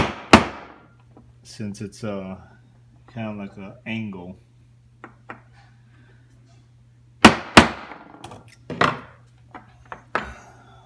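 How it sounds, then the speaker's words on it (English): A hammer strikes a steel center punch to mark drill-hole locations, giving one sharp metallic tap early and then a quick cluster of several crisp taps later, with someone talking in between. "I'm going ahead and use the center punch to mark the holes"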